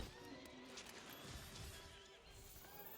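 Lizard-like monsters in Monster Hunter World give horse-like neighs and whinnies, a steady layered call with some clattering underneath that runs for about three seconds at moderate loudness.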